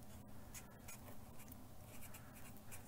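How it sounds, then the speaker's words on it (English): A pen writes on a thin strip of craft paper for a Thanksgiving thankfulness project, giving quiet, steady scratchy strokes with short pauses close by, with no talking. "I'm going to write"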